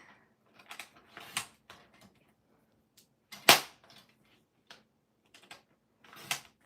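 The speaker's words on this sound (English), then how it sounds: "I feel like my sounds of cutting are louder than normal" Scissors cut paper for a scrapbook journal in a string of sharp, irregular snips and rustles, one much louder than the rest, close by with quiet gaps between.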